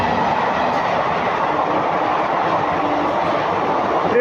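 The 01405 Pune–Jaipur Special roars past very close and loud, a dense steady rumble of wheels and carriages with no break.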